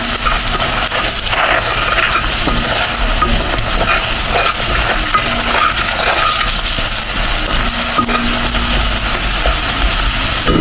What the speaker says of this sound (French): Puis on laisse mélanger comme ça avec le tomate concentré